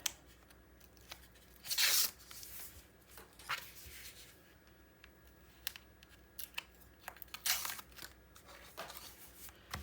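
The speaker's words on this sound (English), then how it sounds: "Okay, now we'll go ahead and take the rest of the tape off." Tape is torn and peeled off an 8 x 8 scrapbook album page, with several sharp ripping bursts and softer crinkles and rustles of paper handling between them, close and fairly quiet.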